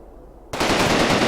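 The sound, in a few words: gunfire returning, from the video game Combat Mission Rome to Victory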